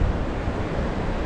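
Sea waves and wind at a beach in the Netherlands make a broad, steady rush of surf and gusting air, moderately loud with some wind buffeting on the microphone.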